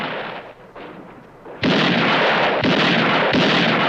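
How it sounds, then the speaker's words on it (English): Gunshots from the 1964 western A Fistful of Dollars arrive as loud, sharp broadband blasts after a quieter rumbling start, with several strong reports in a row and no talking over them. "I like the cutting between the barrels and the gunshots."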